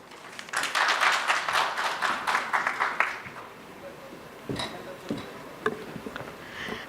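Audience applause breaks out after a speech at the Indo Asia Excellence Summit 2022, a corporate business event. For about three seconds it is loud and dense, then it thins out into scattered claps and quieter room sounds.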